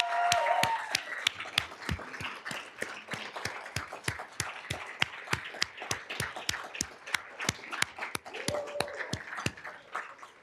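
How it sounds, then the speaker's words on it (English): Applause for an organizing committee at a plant research laboratory's 60th anniversary event, heard as a sparse group of distinct individual claps, fairly close and steady, lasting about ten seconds with no talk. "please join me in giving them the greatest round of applause"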